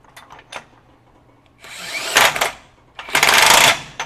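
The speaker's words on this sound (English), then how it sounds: "So you see it actually tightened for a second, and then stopped the tool, and then started hammering away again." DeWalt DCF961 20V high-torque impact wrench in precision wrench mode tightening loose nuts: a brief whir, a pause, then two loud bursts of rapid rattling hammering close by.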